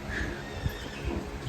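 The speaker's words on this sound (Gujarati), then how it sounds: "અહીંયા ઘોડો હે એમ ને?" A horse on a farm with cows gives a neigh, a rising whinny cry heard fairly close over a noisy outdoor background with a few low thumps.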